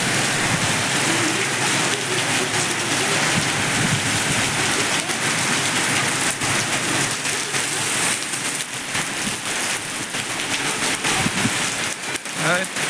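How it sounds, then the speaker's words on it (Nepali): Heavy monsoon rain pours down in Pokhara, a dense, loud, continuous roar of water on surfaces with scattered sharper drips, steady throughout and heard close by. "ठुलो पानी परिरहेको छ त्यही भएर।"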